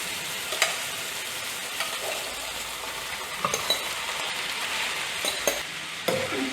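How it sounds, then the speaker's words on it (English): Egg noodles stir-frying in hot oil in a pan, with a steady close sizzle and scattered scraping and clinking of a utensil tossing them, alone without talk. "Just let it cook with the oil"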